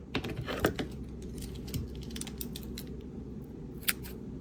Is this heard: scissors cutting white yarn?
yes